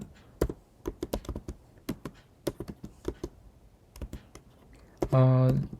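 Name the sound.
typing a command on a computer keyboard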